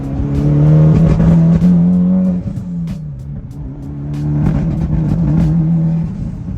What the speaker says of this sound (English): So right now I'm gonna go full throttle and it's gonna start cutting out.